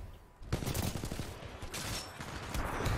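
Rapid automatic gunfire in Titanfall 2 during an attrition match, a string of quick shots fairly loud and continuous after a brief quiet start, with no talk over it.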